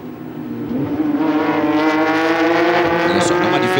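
Porsche GT3 Challenge race cars running at speed on the Barcelona circuit, a loud sustained engine howl rising steadily in pitch as the cars accelerate, heard close and continuous without voices.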